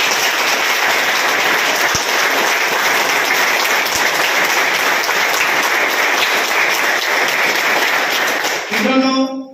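An audience at a motivational session claps for the speaker in a long, dense, even round of applause that holds loud and steady before tapering off at the end.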